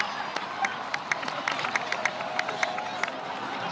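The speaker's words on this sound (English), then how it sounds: "So, please give another round of applause for them." Crowd applause and cheering with scattered sharp claps, steady and moderately loud, a game-like crowd ambience without speech.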